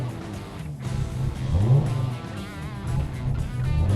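A rally car pulls away in first gear under throttle, its engine note rising and swelling in a couple of revving surges, close and fairly loud.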